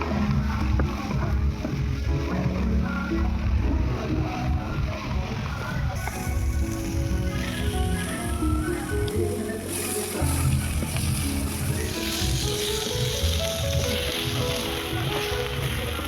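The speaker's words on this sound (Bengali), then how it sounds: "বেগুনগুলোকে এবারে হালকা করে ভেজে নেব" Eggplant pieces fry lightly in a pan in a village kitchen, giving a steady close sizzling hiss that runs throughout with some soft movement and no speech.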